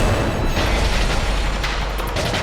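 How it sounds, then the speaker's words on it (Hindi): Cannon fire in a battle scene from a Maharana Pratap historical drama, heard as a deep, rolling boom that sustains a dense rumbling roar throughout. "तोप चलाओ।"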